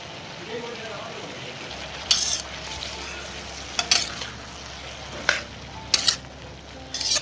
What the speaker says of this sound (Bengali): এবার আলুটা দিয়ে বাঁধাকপিটাকে মিশিয়ে নেব